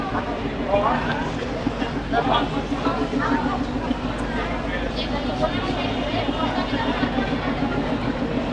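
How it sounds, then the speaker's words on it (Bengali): A commuter express train at a station on the Rajshahi to Rohonpur line, with loud, steady rumbling and rhythmic wheel clatter filling the scene and people talking over it throughout. "ট্রেন চলে এসছে"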